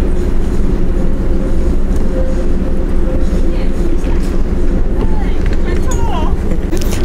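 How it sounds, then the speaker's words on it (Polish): A passenger train running on the line toward Świnoujście, a loud steady close rumble with rail noise throughout, with people talking over it. "Jedzie właśnie już nasz pociąg, będziemy zaraz zmykać do Świnoujścia."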